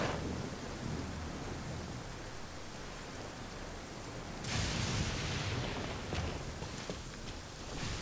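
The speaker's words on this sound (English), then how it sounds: "Inazuma still got all these lightning strikes." Steady heavy rain pours in Inazuma in Genshin Impact, and a sudden roll of thunder partway through swells the hiss into a louder, fuller rumble that stays to the end.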